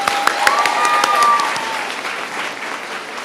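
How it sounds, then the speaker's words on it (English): An audience applauds a Bharatanatyam dancer at her arangetram, a loud, full burst of clapping with a few sharp individual claps and a faint tonal whistle or voice rising through it early on, then settling into a steady wash. "I think she deserves even more, a big round of applause."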